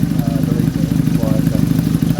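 A motorcycle engine idles close by with a steady, slightly uneven low throb and faint mechanical clatter, its intake slightly restricted for airflow.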